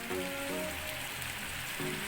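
Snails cook in a pan with sauce, giving a steady soft sizzle and crackle throughout, fairly faint and close, with no talk.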